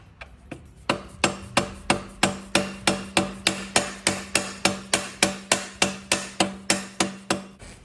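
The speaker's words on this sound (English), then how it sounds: "Knock this one through, right? Always keen on using a soft hammer" A soft hammer knocks the swingarm pin through on a Honda Grom motorcycle, about twenty steady, evenly spaced blows that stay close and moderately loud, with no talk over them.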